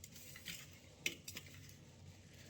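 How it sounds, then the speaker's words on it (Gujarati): Faint clinks and scrapes of a spoon in a bowl as stuffed chilli masala is mixed with salt, lemon and sesame seeds, a few soft, irregular metallic taps close by, no voices. "અને હવે છે ને બધી જ વસ્તુ એકરસ થાય ને તે રીતે મિક્સ કરી દેવાની"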